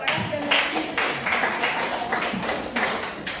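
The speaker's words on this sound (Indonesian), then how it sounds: "Tepuk tangan untuk Ruth dengan Eklesia tadi dulu." Audience applause after a class presentation, a steady burst of many hands clapping indoors at close range, continuous for a few seconds.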